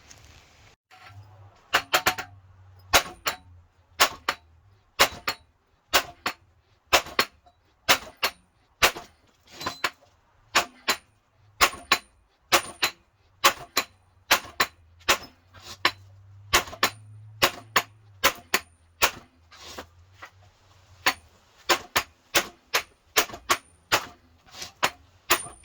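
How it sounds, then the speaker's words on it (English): A rusty axle shaft on a Miata suspension is hammered out of the steering knuckle, with dozens of sharp metallic strikes landing in steady bursts, loud and close, with brief pauses between runs. "I'm just going to beat that axle shaft right out the knuckle"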